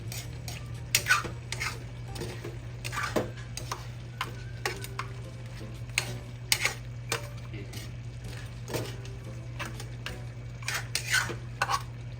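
A ladle stirs crab in coconut milk in a pot with kalabasa and sitaw, giving repeated metallic clinks and scrapes against the pot over a low steady hum, fairly close and irregular in rhythm.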